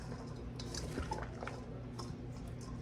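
Garden winter salad stirred in a bowl, with soft clinks of a utensil against the dish and light wet rustling, quiet and close with a low background hum.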